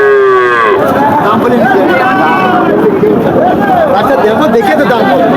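A cow moos at the start amid a busy crowd at the Chaugachha cattle market; chatter and overlapping voices fill the scene, with more lowing crossbred cattle in the background.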